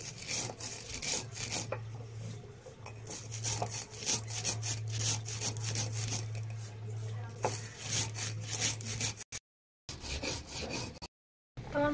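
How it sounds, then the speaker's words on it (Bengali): Fried spices being ground on a grinding stone, giving a continuous close rasping, rubbing scrape in repeated back-and-forth strokes, with a low hum underneath and brief drop-outs near the end. "এই ভাজা মশলাগুলো আমি এখন বেটে নেব।"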